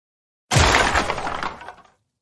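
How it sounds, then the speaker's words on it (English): A baseball bat smashes into a refrigerator with one loud, crashing impact that rattles and shatters for over a second before dying away, with no voices. "I smashed the refrigerator with a baseball bat."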